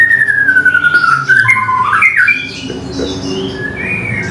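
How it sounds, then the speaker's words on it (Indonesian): A bird squawks and chatters loudly up close, with harsh, sliding calls over a low background murmur. "burung cumbu itu ketika lihat orang dia pasti meletek ya"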